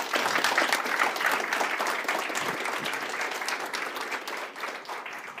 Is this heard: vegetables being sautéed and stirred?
no